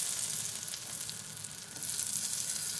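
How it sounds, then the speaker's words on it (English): A whitebait patty bound with egg sizzles in butter in a pan, a steady close crackling hiss with no voices. "put in one egg, a bit of salt and pepper, and cooking it in butter"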